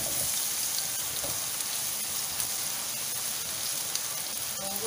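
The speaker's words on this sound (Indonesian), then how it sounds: "kita akan tumiskan pertama bawang putih ya" Garlic sizzles steadily in a hot pan, a dense, even crackle and hiss held close and fairly loud without a break, with no talking over it.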